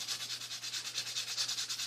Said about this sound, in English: just going to take some sandpaper here and do a little sanding